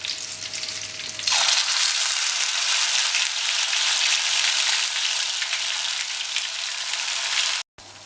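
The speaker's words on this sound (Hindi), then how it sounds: "अब ये जो हमारा पेस्ट है प्याज का, इसे हल्के हाथ से डालेंगे।" Onion paste goes into hot oil for a royal egg korma and erupts into a loud, bright, steady sizzle after a quieter start, holding strong until a sudden brief cut near the end.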